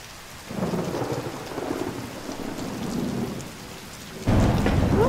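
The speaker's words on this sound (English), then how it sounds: "now it's raining again." Steady rain pours down in Paris with a dense hiss, growing heavier and louder near the end.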